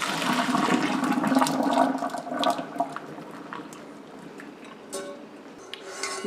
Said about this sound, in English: And drain the noodles.